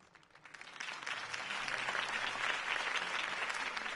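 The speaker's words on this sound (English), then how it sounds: "If only Mr. Wayne, my campaign's largest backer, could have heard that applause" A crowd applauding after a political campaign speech in the Batman Telltale video game, swelling from quiet into sustained dense clapping that holds steady to the end, with no talk over it.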